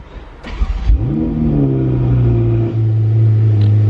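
A Ferrari 488 Pista Spider engine cranks briefly, fires with a loud rising rev, then settles into a deep, steady, rumbling idle close by.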